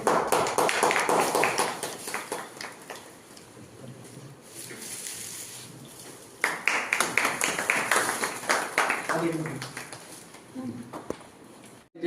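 Applause from an audience at a felicitation ceremony honouring a senior journalist in Vijayapura, heard as two bursts of dense clapping with quieter murmuring between them.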